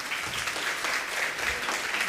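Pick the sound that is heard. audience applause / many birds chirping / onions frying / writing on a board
audience applause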